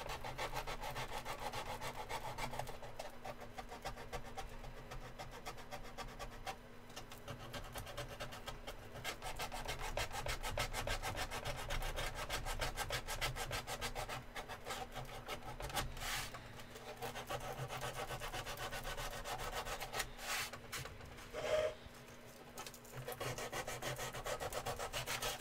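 Wood being hand-sanded with worn sandpaper during a scale model build: steady, rhythmic back-and-forth rasping strokes that continue close-up and unbroken for the whole stretch, with a brief knock near the end.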